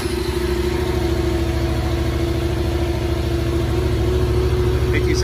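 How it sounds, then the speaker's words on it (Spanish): A new Yamaha XSR 700 motorcycle engine runs at a steady, loud idle close by, with a constant low rumble throughout. "lo arrancamos para ver cómo suena una moto nueva"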